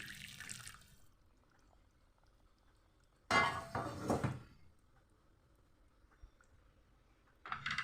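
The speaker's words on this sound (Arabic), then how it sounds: "وبعدين هنجيب الميه المغليه بقى ونحطها عليه" Boiling water is poured over pigeon, rice and freekeh packed in a tagine. It comes as a few brief, faint splashing pours separated by quiet stretches.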